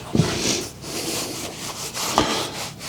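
An air spring shaft on an Audi allroad is rubbed by hand, producing a few close, dry back-and-forth rubbing strokes with small knocks between them and no speech.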